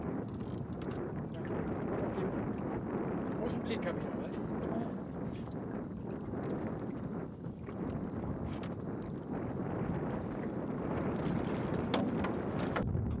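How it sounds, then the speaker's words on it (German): Wind on a lake in the Yukon, heard from a boat, rushes and buffets the microphone in a constant broadband blow with gusty swells, while voices murmur faintly underneath. "Als der Wind wieder etwas aufgefrischt hat,"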